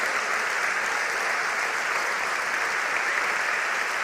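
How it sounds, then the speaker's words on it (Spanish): A church congregation claps in a dense, even wash of applause that holds steady for about four seconds, with no speech over it. "Vamos a darle un aplauso."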